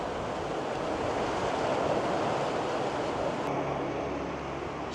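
Strong wind by the sea in Bodrum, a loud steady rush of gusts buffeting the microphone over breaking surf, easing slightly toward the end.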